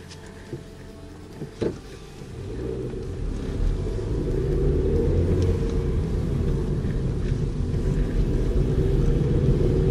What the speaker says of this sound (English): How to change gears with your pinky.